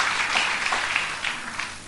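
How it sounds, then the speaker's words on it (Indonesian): Congregation applause during a church worship service, brief steady clapping from many hands for a couple of seconds, fading slightly at the end. "Mari berikan tepuk tangan."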